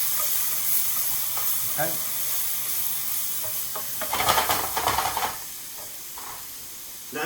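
Mushrooms and chicken sizzle steadily in a pan for chicken cacciatore, a constant close hiss swelling into a louder stirring crackle midway, with a brief word spoken.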